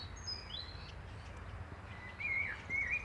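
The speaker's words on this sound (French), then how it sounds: "Vous pouvez entendre peut-être les petits oiseaux." Small birds singing outdoors in the Provence countryside, a few thin high chirps and short trills at moderate distance over a quiet low background rumble, with a brighter burst of song near the end.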